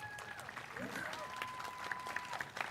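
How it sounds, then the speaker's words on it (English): Applause for teachers and school staff at a 2025 SVAE graduation ceremony, a fairly quiet, steady patter of clapping from the audience with a whistle and voices mixed in over nearly three seconds. "Please give them a round of applause."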